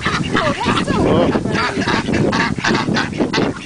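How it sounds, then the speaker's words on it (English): A flock of ducks being fed give loud, close honking calls in quick overlapping bursts, while a person speaks briefly in the background. "Those are some happy ducks."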